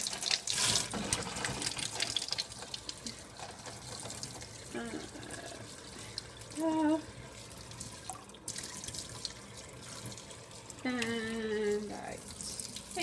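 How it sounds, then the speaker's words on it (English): Hot water runs steadily from a kitchen tap into a measuring cup, a continuous close splashing stream with brief filling gurgles, and a person talks intermittently over it. "I run the water until it's nearly hot, pretty hot"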